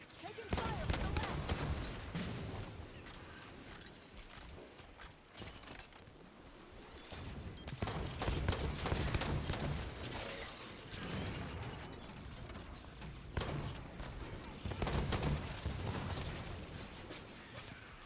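Suppressor weapon fire in the Halo 5: Guardians shooter game during a fight against crawlers, dense rattling bursts and impacts in waves over a busy game soundscape, loud and continuous.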